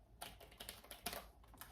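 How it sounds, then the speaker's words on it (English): Typing on a Logitech Bluetooth keyboard, a run of close, crisp key clicks in an uneven rhythm with a few heavier strokes, and no talking. "On for funsies, I got this Logitech keyboard"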